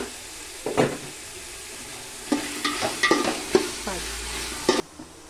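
Vegetables frying in a pan with salt added, a soft background sizzle punctuated by repeated scraping stirs of a spoon, close up, with no voices.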